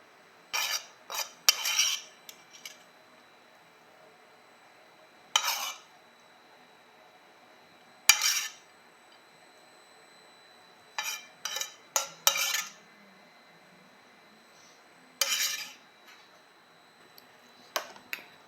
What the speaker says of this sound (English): Just going to start with the tongs to get the greens out